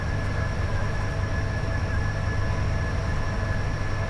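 Steady, continuous rumble and rail roar of a Class 86 locomotive-hauled Carlisle to Lancaster train passing on a simulated West Coast Main Line, even and unbroken with a faint high whine, no talk.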